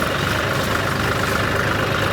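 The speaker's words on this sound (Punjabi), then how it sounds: "ਇਹ ਜਨਰੇਟਰ ਆਪਣਾ ਚੱਲੀ ਜਾਂਦਾ" A diesel generator runs on a farm to water paddy fields, making a loud, steady, unbroken low engine drone nearby.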